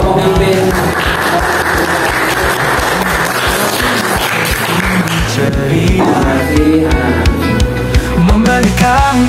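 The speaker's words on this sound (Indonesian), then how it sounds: "Dan marilah tepuk tangan untuk pemimpin." Applause for a newly chosen class leader at a high-school class election at SMAN 1 Pakel. Loud, continuous clapping mixes with steady tonal music throughout.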